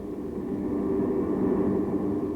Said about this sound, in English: U.S. carrier-based planes kept up a steady attack against the enemy in the Pacific.